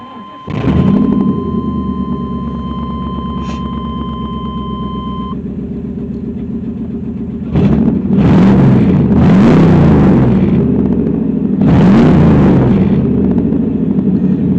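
An old truck with a loud, damaged exhaust starts and idles with a heavy, rumbling drone, then revs hard three or four times in loud, throaty surges, heard close from inside the cab with the door closed; no talking.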